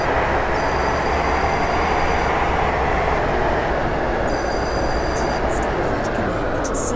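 A steady, loud rumble and roar of a train running on rails in the Roblox SCR game, continuous throughout, with faint high tonal tones and a few light squeals over it.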